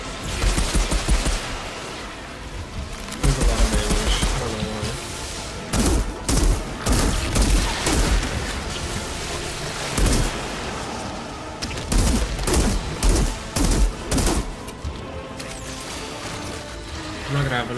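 Gunfire in the video game Outriders, dense bursts of rapid shots and heavy impacts repeating in clusters throughout, loud and close, mixed with crashes and mechanical clatter, with a voice talking over parts of it.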